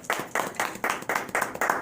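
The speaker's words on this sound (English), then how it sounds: "give Brother Kofi a round of applause" A group claps for Brother Kofi in steady, rhythmic bursts, about five evenly spaced surges of hand claps, fairly close and with no talking over them.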